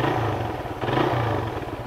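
Suzuki Raider 150 motorcycle engine running steadily up close, a continuous mid-pitched chugging hum with slight clatter and no pauses, no talking over it.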